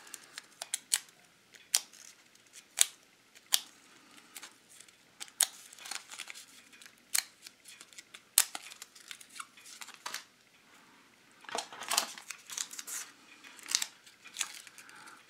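A piece of tape pulled and torn off for masking flaking paint, with a run of sharp close ticks and clicks followed by a denser crinkly ripping stretch, quiet and without speech.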